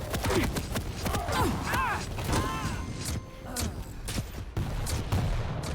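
Rocket launcher fire in an arena shooter game comes as repeated sharp blasts and clattering impacts under steady, excited commentary talk.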